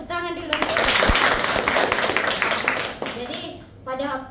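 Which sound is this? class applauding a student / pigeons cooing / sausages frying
class applauding a student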